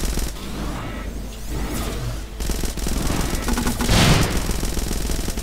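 Automatic gunfire strafes in the video game Starbound as a dense, continuous rattle of rapid shots mixed with other game effects, loud and unbroken.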